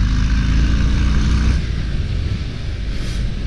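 A 2023 Harley-Davidson Breakout 117 motorcycle rumbles up close with a deep, loud throb that settles back to a lower, rougher idle-like rumble partway through.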